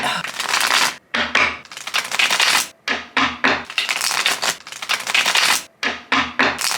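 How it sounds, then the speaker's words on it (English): Tarot cards shuffled in rapid bursts, a crisp riffling and rubbing clatter that comes in repeated close runs separated by short pauses. "let's just shuffle the cards and see what's what"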